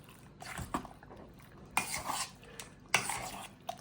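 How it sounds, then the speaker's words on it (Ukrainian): Chicken fillet and vegetables for a casserole are stirred in a pan with cabbage, making three quiet bursts of scraping and soft sizzling with near-silence between them. "І зараз ми це все перемішуємо"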